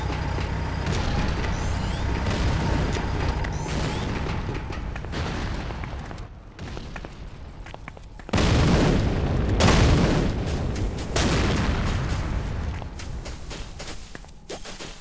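Explosions and heavy weapon fire during an attack on a Nod Harvester in a real-time strategy game, dense booming blasts layered over rumbling, with a loud surge partway through.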